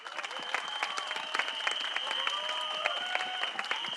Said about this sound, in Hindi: तो क्या आप अपना प्यार और अपना हौसला इन्हें देंगे तालियों के जरिए?